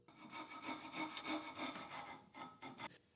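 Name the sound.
saw cutting a wooden tool handle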